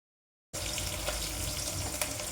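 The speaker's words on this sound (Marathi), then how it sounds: "आपल्याला यामध्ये कांदा देखील टाकून परतून घ्यायचा" Chopped onion hits a hot pan and sautés, the sizzle bursting in abruptly after a brief silence and continuing as a steady, close hiss with no voices.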